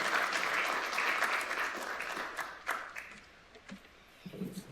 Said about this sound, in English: please join me in offering a warm round of applause and welcome to all of our speakers